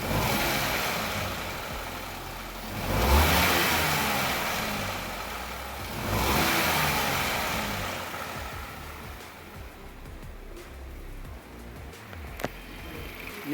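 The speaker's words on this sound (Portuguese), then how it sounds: "Olha o barulhinho do motor como ficou." A repaired Hyundai HB20 1.0 engine runs steadily at a low, even hum, with two gentle swells in level early on before settling into a quieter idle, with no talking.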